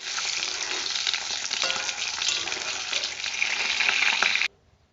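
An egg frying in oil in a pan on a gas stove gives off a loud, bright, continuous sizzle with small pops, ending abruptly after about four and a half seconds; no talking.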